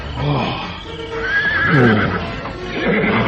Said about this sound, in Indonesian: Alas kudamu meringkih ketakutan.